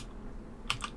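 A couple of light keystrokes on a computer keyboard while a command is typed, two faint taps close together over quiet room noise.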